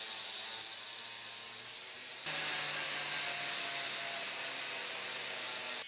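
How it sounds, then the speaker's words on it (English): Welds on steel end caps for a heavy-duty workshop cart are ground down, giving a steady, hissing abrasive drone that runs the whole time with a slight shift in tone partway through and no talking. "The welds didn't turn out great, so I'll grind them down."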